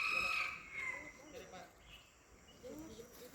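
A kalij pheasant rooster crows in the wild forest of Bardia National Park, a brief high call early on, under a steady drone of crickets and insects with people talking nearby.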